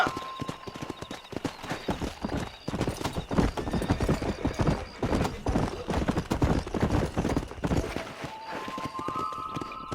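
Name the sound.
horse galloping in Red Dead Redemption video game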